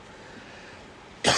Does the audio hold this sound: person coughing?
yes